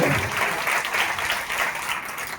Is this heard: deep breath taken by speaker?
no